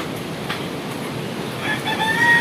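A rooster crows faintly in the distance beside the flooding Wawa Dam, its calls rising late over a steady wash of rushing floodwater noise.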